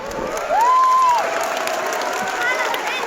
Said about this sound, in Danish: Og det skal I give jer selv et kæmpe bifald for